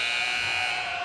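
A buzzer sounds at a girls' high school basketball game: one loud, steady electronic tone that holds for about a second, with no voices over it.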